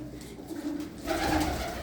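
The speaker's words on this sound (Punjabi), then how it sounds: "ਵੱਡੇ ਕਬੂਤਰ" Large pigeons in a netted coop coo steadily in low, murmuring tones close by, with soft rustling and no voices.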